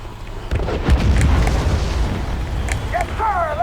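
Explosion in The Walking Dead Survival Instinct video game, a loud rumbling boom that swells and rolls on for several seconds as a heavy, close low roar with crackling debris, a brief voice near the end.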